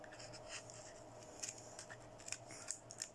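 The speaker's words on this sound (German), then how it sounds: "Nehmen wir eine Schere." Scissors cut open the packaging of a WECO Quatrofontäne firework, giving a series of quiet, close snips and rustles at an irregular pace.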